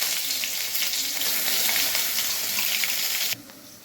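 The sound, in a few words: spice paste frying in a wok for shahi paneer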